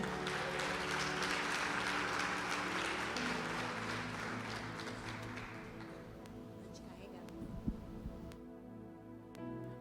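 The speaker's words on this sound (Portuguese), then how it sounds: "Vamos aplaudir ao Senhor por isso." A church congregation applauds at a Sunday service, a dense wash of clapping that starts full and slowly thins and fades, with a few murmured voices beneath and a low hum toward the end.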